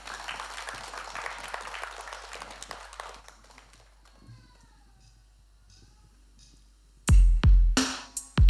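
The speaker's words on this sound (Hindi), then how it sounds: "जोरदार तालियों के साथ स्वागत है इनका" Audience applause welcomes performers on stage at the Sangeet Sitare music competition, a dense clapping wash that fades under an announcer's voice before a sudden loud burst near the end.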